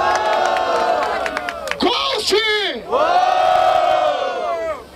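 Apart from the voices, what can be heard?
crowd cheering at a rap battle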